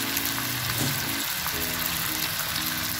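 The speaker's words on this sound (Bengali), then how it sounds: "আমি এখানে কিছুটা জল অ্যাড করে দিলাম" Methi chicken fries in a pan with a steady, close, broadband sizzle that holds evenly for the whole stretch, with no voices.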